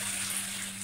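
Water pours out of a container used for soaking medical instruments during high-level disinfection, a brief, steady gushing splash at moderate level with no voices.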